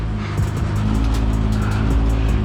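An all-wheel-drive car locked in four-wheel drive backs up onto a car hauler, its engine a loud, steady close rumble with light revving and no talk.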